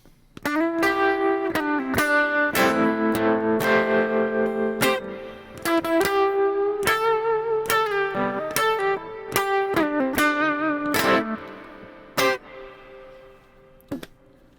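An electric guitar plays strummed chords and picked notes through a Boss Katana 100 amp set to spring reverb, each attack trailing off in a washy, ringing reverb tail.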